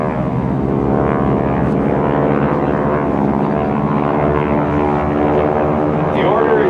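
GEICO Skytypers propeller aircraft dive in formation at an air show, their engines roaring loudly and steadily with a rich droning tone that shifts slightly as they pass overhead.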